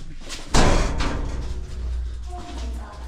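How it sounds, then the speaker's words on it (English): Double doors in a cave close with one heavy thud near the start, followed by a low, echoing rumble that fades out over the next few seconds. "We're going down through the double doors."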